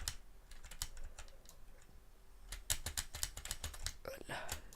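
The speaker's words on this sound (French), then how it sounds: "Désolé si vous entendez le bruit fort de mon clavier." Loud computer keyboard typing in bursts of sharp, close clicks, with quick flurries and short pauses, while faint breathy murmurs sit underneath.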